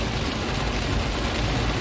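A brief burst of heavy downpour in Palembang on the road to the airport, a uniform wash of hissing noise with a low rumble beneath.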